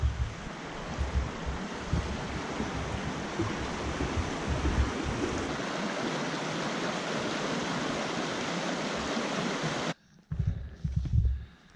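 Rock Creek flows steadily at a trail campsite in the foothills, a dense continuous rush of water close by, cutting off abruptly near the end into quieter rustling outdoor sound.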